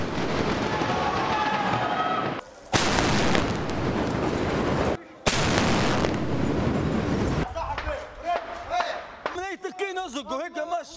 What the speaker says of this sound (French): C'est au canon qu'ils les débusquent un par un.